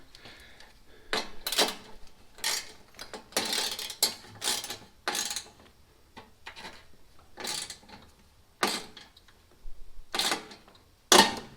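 Close metallic ratcheting and clicking from a hand wrench snugging heat shield bolts on a WS6 Trans Am, heard as short bursts separated by quiet pauses, with no talking.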